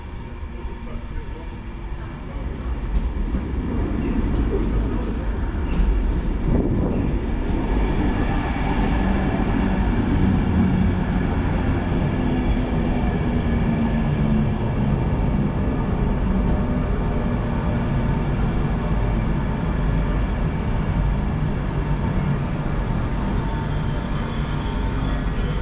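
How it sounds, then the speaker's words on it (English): Steady rumble of an LNER train, locomotive 91130, pulling out of Leeds station on the 10:58 service to London King's Cross, building from the start and holding loud and continuous throughout. "departing now is the 10:58 LNER service to London King's Cross from Leeds"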